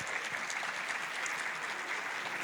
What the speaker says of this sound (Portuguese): eu queria pedir uma salva de palmas para essas duas grandes mulheres